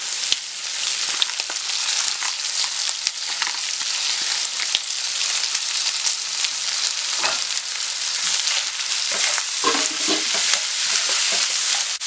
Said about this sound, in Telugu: ఇదంతా హై ఫ్లేమ్లోనే చేసుకోవాలి ఈ టాసింగ్ అంతా.